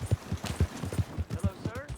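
Horse hooves beat a steady, quick clip-clop in Red Dead Redemption 2, the even strikes sounding close and moderately loud, with soft game ambience around them.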